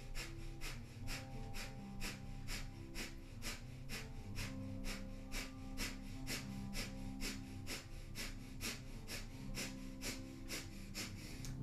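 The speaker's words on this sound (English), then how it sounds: "Powerfully pumping the navel, letting the navel move the breath." Rapid, rhythmic breathing pumped from the navel during Sat Kriya in a Kundalini yoga practice, sharp regular breath bursts about twice per second, steady and close over a faint low drone, with no talking.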